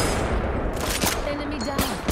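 Apex Legends gunfire crackles in a dense, steady barrage with several sharper bursts standing out, fairly loud throughout.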